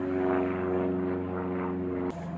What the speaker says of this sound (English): Damn airplanes.